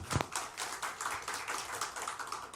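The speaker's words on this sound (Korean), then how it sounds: "하나님께 영광의 박수 올려드리겠습니다" A church congregation claps during a Sunday service, a fairly quiet, loose patter of hands with some distinct individual claps, heard from a distance for a couple of seconds.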